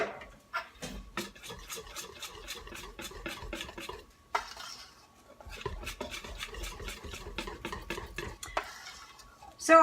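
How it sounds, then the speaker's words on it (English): Dessert batter with flour being stirred in a bowl, a steady rhythm of utensil scrapes and clinks against the bowl, briefly pausing midway, close and fairly quiet. "So I'm just gonna finish mixing this up."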